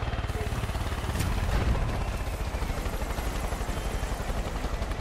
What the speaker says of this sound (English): And I think a helicopter is chasing me.